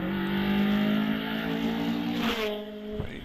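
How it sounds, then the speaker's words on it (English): A Mazda MX-5 race car revs hard and accelerates away up a hillclimb course, its engine loud and close before the note shifts as it pulls into the distance. "And away then goes the Mazda MX-5."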